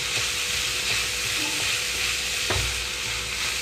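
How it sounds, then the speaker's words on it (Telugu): Chopped tindora (ivy gourd) frying uncovered in a pan, giving a continuous even sizzle with a few faint utensil scrapes and one sharper knock, close and steady, no speech. "ఇక్కడ మూత పెట్టకుండా వేయించుకుంటున్నానండి"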